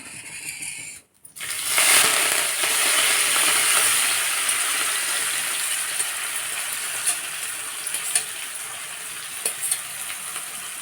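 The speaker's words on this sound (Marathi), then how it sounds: "कांदा आपल्याला छान परतून घ्यायचा आहे ब्राऊन कलर येईपर्यंत" Onion, cumin and curry leaves sizzle and crackle steadily in hot oil in a kadhai while cooking bitter gourd sabzi, after a brief drop in the frying noise at the start, with scattered pops and small stirring clicks close by.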